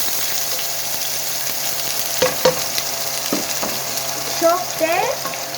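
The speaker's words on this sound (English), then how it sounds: "And I'm going to saute. Now I am putting onion." Onion sautéing in a pan, a steady frying sizzle running throughout with brief clinks of stirring and a few short scraping accents near the end; no talking.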